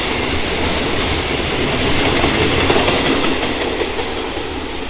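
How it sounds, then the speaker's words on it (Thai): A freight train rolls past Salaya railway station in Thailand, a loud, close, continuous rumble with rhythmic clickety-clack of wheels over rail joints and faint squeal, no talk. "รถสินค้านะฮะอันนี้ไม่ทราบจริงขบวนอะไรนะฮะ"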